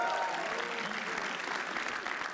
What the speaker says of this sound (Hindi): रजत सूद के लिए तालियां प्लीज।